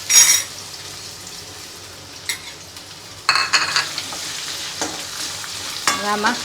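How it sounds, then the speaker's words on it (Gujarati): Finely diced raw potatoes fry in oil in a pan for sabudana khichdi, with bursts of sizzling and several scraping stirs of a spoon at irregular intervals, close and fairly loud. "તેલમાં આપણે આ બટેટાને સાતળી લઈશું"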